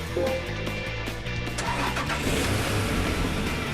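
An Acura NSX Concept engine cranks and fires up in Gran Turismo 5, a loud, close starter whir catching into a steady running rumble that fills the whole stretch.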